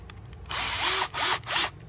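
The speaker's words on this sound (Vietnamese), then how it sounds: "thì em này là máy khoan" A Bosch PS31 cordless drill with a 10 mm auto-lock chuck whirs up close in three bursts of rising and falling motor pitch, separated by brief pauses.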